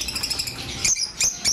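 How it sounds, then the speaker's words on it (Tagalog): A pet Aqua B2 split dilute bird chirps for sale, a few short bright tweets in quick bursts, close and fairly loud over a faint background hum, no talking. "Napakagandang ibon mga sir o."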